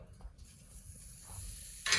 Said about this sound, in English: Got that nice sizzle happening there, so that's very good.